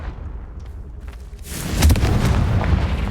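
A spell explosion goes off in Hogwarts Legacy, a fire blast that swells into a loud, roaring boom after a low rumble, then lingers as a dense crackling rush.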